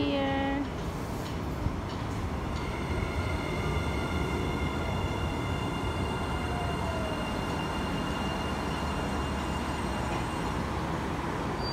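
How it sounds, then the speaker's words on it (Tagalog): A KTM commuter train pulls into a station in Malaysia, a continuous heavy rumble of rail cars with whining tonal hums and faint wheel squeal, close and sustained, with a few faint voices nearby. "the train is here"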